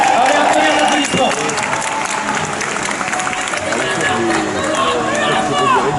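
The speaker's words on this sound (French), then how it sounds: "Allez, un tonnerre d'applaudissements" Crowd applauding at the opening of a knights-versus-barbarians tournament in Angers, loud sustained clapping and cheering mixed with voices and background commotion.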